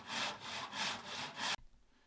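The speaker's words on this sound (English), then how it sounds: "Now I'm going to use my miter box and just a regular hand saw to make these cuts." A regular hand saw cuts through wood held in a miter box, with five steady rasping back-and-forth strokes close up, then it stops abruptly.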